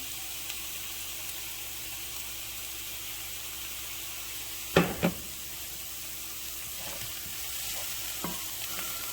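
Strips of bacon frying in a pan for a peach bourbon bacon jam with balsamic vinegar, a steady close sizzle running throughout, broken by a couple of sharp clanks and scrapes partway through, with no talking.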